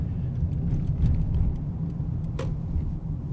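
Heavy city traffic at a busy rotary in Hartford, Connecticut, heard from inside a car: a constant low rumble of cars and trucks with a few faint passing swishes and one brief sharper noise.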